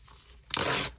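A single quick rip of paper torn along the edge of a tearing ruler, close and crisp, lasting under half a second after a brief quiet rustle.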